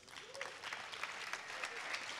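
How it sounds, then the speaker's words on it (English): A room full of people claps steadily, a faint, even patter of applause sustained throughout. "Again, a big applause for our mentors."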